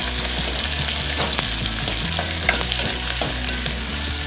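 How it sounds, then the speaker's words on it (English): Onions sauté in hot oil for sambar, giving a steady loud sizzle with scraping stirring strokes at irregular intervals, close by and with no talking. "Now let the onions saute in the oil until it leaves its rawness"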